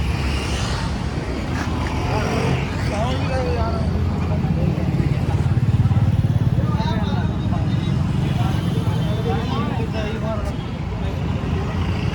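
A generator runs at a street site in Latur during Ambedkar Jayanti preparations. It is a steady, loud mechanical drone that continues throughout under nearby people talking and general outdoor bustle.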